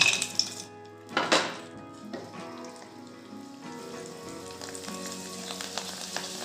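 Finger millet (nagli) papad is dropped into hot oil and fries with a bright crackling sizzle, starting with a sharp burst, then a steady bubbling fizz, close by with no talking.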